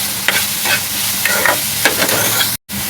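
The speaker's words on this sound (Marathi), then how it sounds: "कांद्याबरोबर टोमॅटो भाजून घेऊया" Tomato and onion fry in hot oil while being stirred, giving a steady close sizzle broken by a few scraping stirs.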